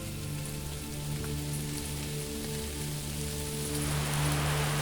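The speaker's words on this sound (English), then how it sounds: "it's pouring rain right now" Heavy rain pours steadily, a dense continuous hiss of drops on surfaces that swells slightly louder toward the end.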